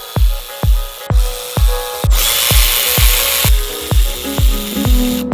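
Power tool driving bolts into a monster truck engine's cylinder head: repeated sharp bursts in a steady rhythm, about ten loud close hits with a stretch of continuous whirring in the middle.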